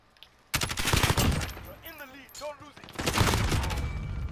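Rapid automatic gunfire rattles in loud bursts in a shooter video game. A short stretch of voice sits between two heavy volleys.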